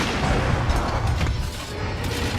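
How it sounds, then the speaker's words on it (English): A gunlance wyrmstake blast from Monster Hunter World Iceborne produces a dense, roaring explosive rumble that fills the clip with a heavy, sustained low boom and scattered bursts, loud and near. "load your slinger ammo into the gun lance for an explosive surprise in the form of a worm-stake blast"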